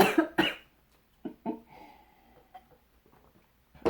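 Two sharp coughs open, followed by a few softer throat sounds and small bursts, then another cough at the very end; close and fairly loud with quiet gaps, in a room with dry heated air.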